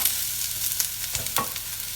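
Onions sizzle steadily as they fry in a pan, with occasional stirring scrapes and clicks over the constant hiss.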